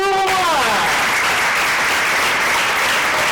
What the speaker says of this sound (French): On applaudit pour moi!